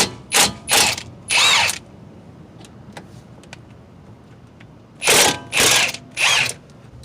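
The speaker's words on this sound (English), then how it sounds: "you'll need a 14mm socket to remove these two caliper bolts." A ratchet with a 14mm socket works on the front brake caliper bolts of a 2003-2008 Infiniti FX35, giving three short rapid clicking bursts, a quiet pause, then three more, close and loud.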